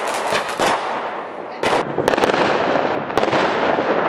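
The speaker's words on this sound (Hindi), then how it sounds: "दिवाली पटाखों और रोशनी का त्यौहार।" Diwali firecrackers and fireworks burst in a dense, loud barrage of sharp cracks and crackling pops, with a brief lull before a fresh volley of rapid explosions.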